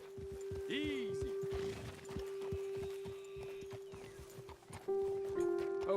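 Horses in Red Dead Redemption 2 whinny loudly once near the start, with steady clip-clop of hooves throughout and someone talking over them.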